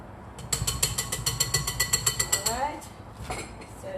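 Boondi ladoo batter tinted with yellow or orange colour gets whisked in a bowl, a quick run of about fifteen even metallic clicking strokes that then slows and fades into some faint clinks.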